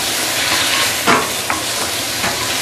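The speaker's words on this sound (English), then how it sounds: "I'm going to give it some hot water just to ease the stir frying process." Okra stir-fried in a hot wok with sambal just after hot water is added, giving a loud, continuous broadband sizzle with a few brief scrapes of stirring, close up and with no talking.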